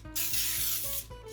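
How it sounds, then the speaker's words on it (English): Baking spray hisses steadily out of a can into cake pans for a gingerbread cake, one continuous burst about a second long, close and fairly loud against a low background hum. "you do want to spray it with a little bit of baking spray"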